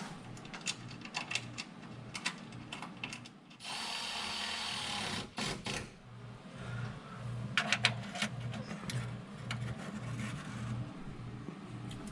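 Wrenching and ratcheting while fitting a new bolt and nut on a rusty Humvee M998A1 under restoration, with brief bursts of clicking and tool clatter, moderately close, no talk.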